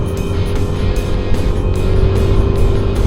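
Steady road traffic rumbles and hisses past on a holiday ride, cars passing close by in a loud continuous drone with a few brief swells.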